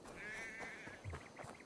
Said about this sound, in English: Sounds like a sheep,